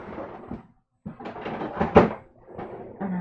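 A watercolor supply drawer packed with art supplies slides open in a home art studio, a series of clattering, rumbling scrapes with a brief pause, close and moderately loud, with no talking.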